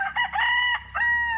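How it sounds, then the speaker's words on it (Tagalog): A rooster crows loudly and close by on a farm in the late afternoon, one drawn-out call with a brief break partway through. "May mga manok."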